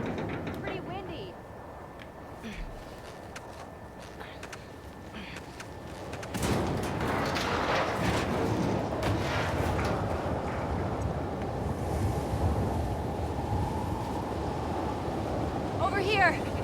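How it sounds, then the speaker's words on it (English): Storm wind roars in The Last of Us Part II: a steady gusty rush of noise that surges louder partway through and stays strong, with people talking over it. "Storm's really picked up."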